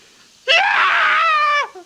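A loud, sustained cartoon-style scream from Ernie of Sesame Street, one unbroken high-pitched cry lasting over a second that rises sharply, holds steady and then cuts off.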